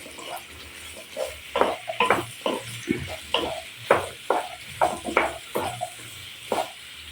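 Vegetables, carrots and chili, being stirred in a pan for Filipino spaghetti gisado, with scraping and clattering strokes in an irregular rhythm over a low sizzle, close by.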